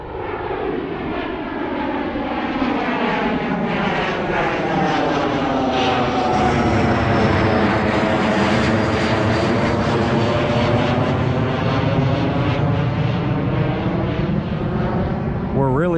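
Aircraft passing low overhead near Van Nuys Airport, a loud roaring engine drone that swells and sweeps in pitch as it passes, with a voice briefly heard beneath it.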